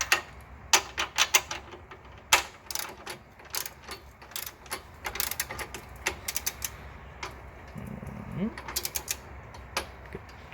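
Rapid ratcheting clicks from a torque wrench as strut brace bolts on a Tesla Model 3/Y Cusco strut brace are tightened to 37 foot-pounds, a close, uneven series of sharp mechanical ticks with brief pauses and a low scrape near the end.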